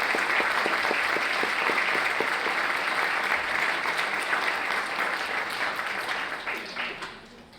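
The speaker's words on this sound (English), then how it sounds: "Please give a round of applause to Miss Diane Kaur." Sustained applause from a graduation audience at the Rockland Adult Learning Center, a dense steady wash of many hands clapping that holds strong, then thins and fades near the end.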